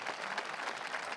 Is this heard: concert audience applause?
yes